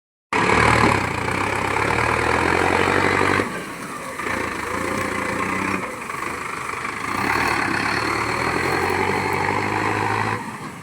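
A Novo 4x4 tractor engine runs steadily and loudly at close range during paddy harvesting, its low rumble holding for several seconds, easing slightly, then building again.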